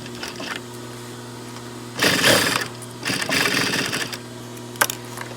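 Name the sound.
sewing machine stitching a zipper onto jeans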